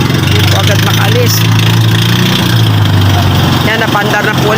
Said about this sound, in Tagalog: Yan, napandar na po ulit ang makina.